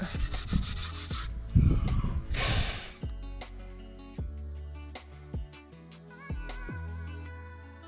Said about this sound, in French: on brosse, on brosse, on brosse